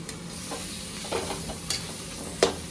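A potato mixture in a large kadhai of hot oil sizzles steadily, with a few sharper stirring scrapes and crackles standing out, near and moderately loud.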